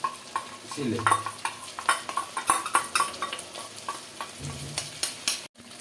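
Hand-ground coriander paste sizzles in a hot pan with vegetables and paneer while a spatula stirs it in quick, repeated clinking scrapes against the metal, close and busy with a low frying hiss beneath.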